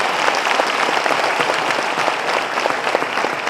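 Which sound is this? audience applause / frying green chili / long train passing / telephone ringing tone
audience applause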